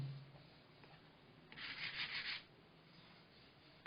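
A short burst of scratchy rubbing as sandpaper is worked back and forth over a carved wooden spoon, lasting about a second amid quiet room noise.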